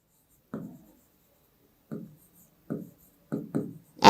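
Chalk or marker writing strokes on a board during a Class 8 maths lesson on proportions, five short scratchy bursts spaced irregularly, close and clear, with no talking over them.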